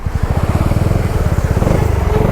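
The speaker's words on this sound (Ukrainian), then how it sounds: "непогано їде скайвейчик" A Suzuki Skywave 250 Type S scooter engine running on a road test drive, a close, steady pulsing drone with a regular rhythmic beat and no talking.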